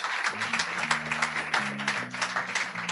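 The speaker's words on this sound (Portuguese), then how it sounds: "Aplauda Jesus pela vida dos nossos irmãos." A church congregation claps during a missions service, a busy spread of hands ringing out over sustained organ or keyboard chords that hold and shift underneath, moderately loud and close.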